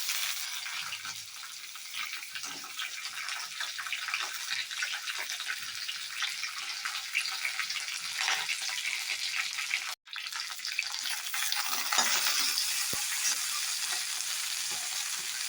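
Okra fries in a pan of hot oil with red chillies and a five-spice tempering, giving off a steady, close sizzle with scraping stirs. The sizzle breaks off for a moment partway through, then resumes.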